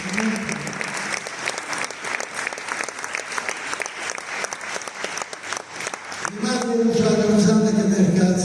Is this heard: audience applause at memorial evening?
yes